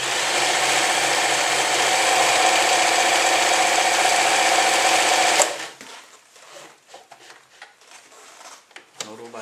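An Elna 393 sewing machine stitches at 0.7 stitch length with a fast, dense, continuous mechanical whir for about five seconds, then stops, leaving scattered clicks and handling sounds.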